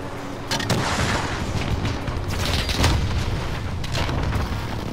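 A rocket explodes in the video game Call of Duty: Modern Warfare, giving a loud, rumbling, heavy blast, followed by more booming detonations close by.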